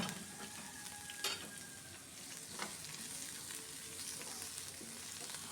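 Crushed garlic and onion frying in hot oil with curry leaves, a soft continuous sizzle with a couple of brief sharper crackles, quiet and close, no talking.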